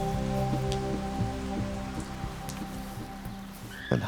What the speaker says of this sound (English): Most of the chimps aren't bothered by this downpour